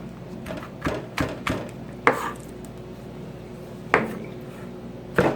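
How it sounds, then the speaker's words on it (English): A knife chops food on a cutting board while preparing Hawaiian shrimp tacos, with a series of sharp, close knocks, first in a quick cluster and then spaced out, in a quiet kitchen. "So we're going to cut this even smaller, like so."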